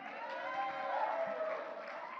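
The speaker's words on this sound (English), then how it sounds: "let's give another big round of applause to Heaven Street" A church congregation applauding at a Sunday service, a steady, soft wash of clapping and crowd noise heard from a distance with no break throughout.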